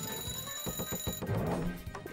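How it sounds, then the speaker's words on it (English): An alarm clock rings as a false alarm in the video game Burgle Cats, a rapid metallic ringing that pulses steadily over a busy game soundtrack. "My skill is alarm clock, false alarms, and seven nearby rooms after a short delay"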